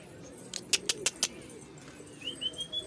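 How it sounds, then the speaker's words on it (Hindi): Fighter Gola pigeons in a Karachi loft coo softly and low, overlaid by a quick run of sharp metallic clicks and a thin rising whistle near the end. "देखें हमारे सारे नए कबूतर हैं"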